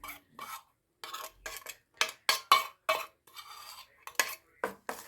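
A spoon mixes fennel, carom and fenugreek chutney in a metal dish, producing a quick run of about a dozen sharp clinks and scraping strokes in short, uneven bursts with brief gaps between them.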